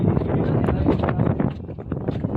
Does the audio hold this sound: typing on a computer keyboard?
no